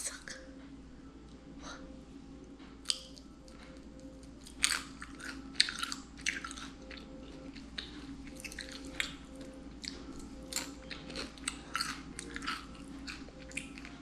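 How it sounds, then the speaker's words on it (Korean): Crispy air-fried salmon skin is crunched and chewed close to the microphone, with soft irregular bites and squishy mouth sounds over a quiet room hum. "연어 껍질이 바삭바삭."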